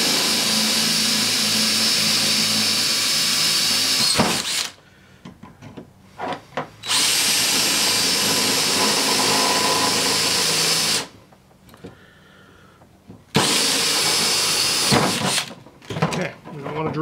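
A power drill runs in three long bursts while driving a screw into a power window regulator being fitted to a Chevy C10 door, loud and whining with short pauses between, and someone talks during the gaps.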